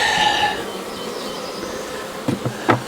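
Honey bees buzz steadily around an opened long hive, a continuous close hum with a few sharper knocks near the end.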